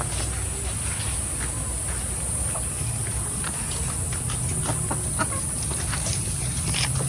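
Rhode Island heritage chickens at a provincial poultry farm fill the scene with scattered clucks and calls. Steady barnyard noise and a constant high whine sit underneath.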